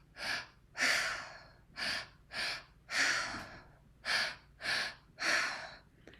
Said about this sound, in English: Connecting with the breath.